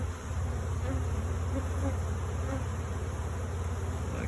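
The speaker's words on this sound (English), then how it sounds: "A lot more bees in the air," A honeybee swarm in the air around a hive box, a dense, steady buzzing hum of many bees close by, unbroken throughout.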